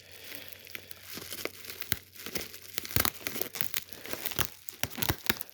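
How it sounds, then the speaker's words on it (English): Packing tape torn and crinkled open on the box of a Toshiba RT-F45D boombox, a run of sharp ripping and crackling bursts up close, uneven in rhythm. "I'm gonna get the tape open."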